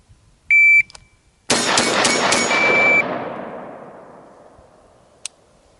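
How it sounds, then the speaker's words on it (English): A shot timer beeps, then four rifle shots are fired from the ready position in a fast string. The shots are loud and close, with a reverberant tail that fades over a couple of seconds, followed by a brief later chirp. "Ready position, fire 4 shots."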